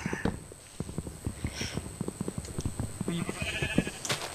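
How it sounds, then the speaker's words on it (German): Sheep in the Minecraft Feed the Beast modpack give repeated short bleats amid busy game sounds, with quick rhythmic clicks and tapping throughout. "Da oben sind sogar schon Schafe"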